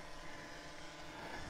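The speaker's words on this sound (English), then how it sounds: "I'm gonna keep an eye on the drone." A DJI Phantom 3 Standard drone flies in Follow Me mode outdoors, producing a steady, broadband propeller whine and hum that holds evenly throughout with no speech.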